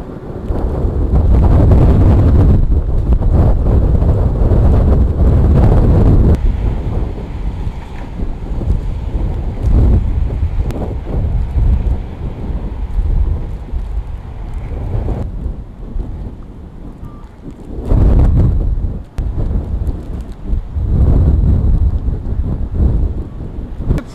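Strong wind from a snowstorm roars against the microphone on a national road, a loud, steady buffeting that eases for a moment and then gusts back up, with no voices.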